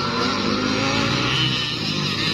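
Enduro motorcycles in a close local race final give a continuous loud engine roar at full revs with no break, close by and heard alone.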